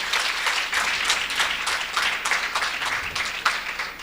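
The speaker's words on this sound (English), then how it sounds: "can we give Mr. Nombembe a very deserving round of applause?" A round of applause from the audience at a university faculty research day, with many hands clapping in a steady dense rush that swells and dips slightly over several seconds, and no speech.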